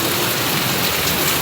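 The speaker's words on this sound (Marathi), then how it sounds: "किती जोरात पाऊस आलाय ना" Heavy monsoon rain in Mumbai pours down steadily, a loud, dense, continuous hiss and patter filling the whole moment without any voices.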